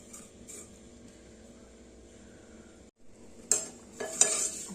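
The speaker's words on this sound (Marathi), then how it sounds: "आपण तुपामध्ये थोड्याशा रोस्ट करून घेणार आहोत" Vermicelli roasts in ghee in a pan, giving a quiet, continuous sizzle, then louder stirring scrapes near the end.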